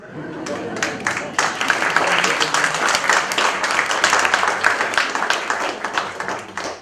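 Enthusiastic audience applause for a lecturer at a science conference on order and chaos, dense clapping building quickly and holding steady, close and full throughout.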